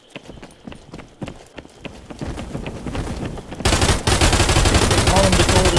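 Dual pump shotguns firing in a VR shooting game: a string of sharp repeated shots that swells into loud, dense blasting in the second half.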